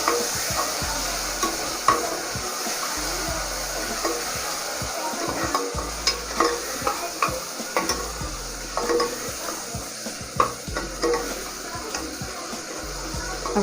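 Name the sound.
stirring chopped tomatoes into frying okra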